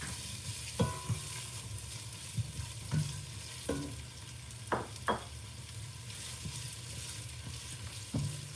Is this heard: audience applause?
no